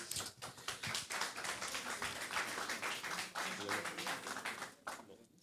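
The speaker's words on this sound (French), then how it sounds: "Et on l'applaudit, mesdames et messieurs." Audience applauding the Racing coach at a football awards ceremony, dense continuous clapping throughout with a little talk mixed in.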